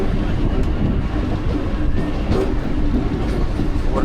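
A Mumbai local train runs near the Bandra line, its carriages rumbling loudly and continuously with a rattling clickety-clack and rushing wind noise throughout.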